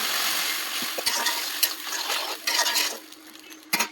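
Jute greens stirred into spiced, fried fish roe in a pan, with scraping and wet clinking strokes over a steady sizzle and a few sharp utensil knocks near the end.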